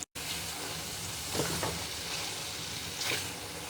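Chicken karahi, Khyber restaurant style, sizzles and fries in a pan, a steady broad hiss throughout with a few louder bursts of crackle as the meat is stirred.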